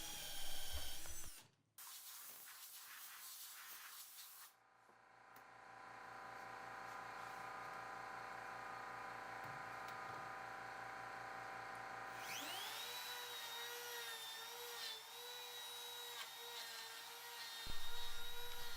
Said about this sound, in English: I'm going to hog out most of the material using a Forstner bit